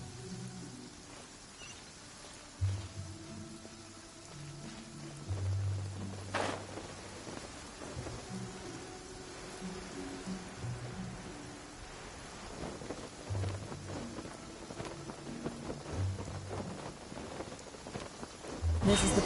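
Rain and thunder in the video game Genshin Impact: steady rainfall patters throughout while rolling thunder cracks and rumbles several times, with game music tones underneath.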